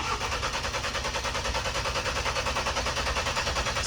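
A Ford Bronco's 2.3L engine cranks on the starter without catching, making a steady, rhythmic chugging whirr that pulses evenly throughout at moderate-to-low volume, with no voices.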